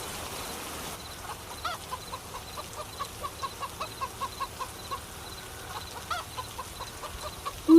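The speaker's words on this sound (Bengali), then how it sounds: "মুরগিগুলো চেঁচামেচি করছে, মনে হয় খুব খিদে পেয়েছে ওদের।" Chickens clucking and squawking nearby in a steady series of short rhythmic calls over a quiet outdoor background.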